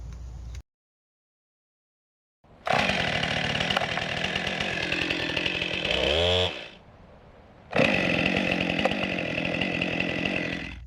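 A chainsaw runs at full throttle in two long, loud bursts, dropping briefly to a lower idle between them after a short silence at the start.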